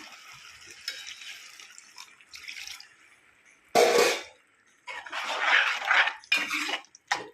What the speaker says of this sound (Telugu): వాటర్ వేసుకుని ఒకసారి కలుపుకొని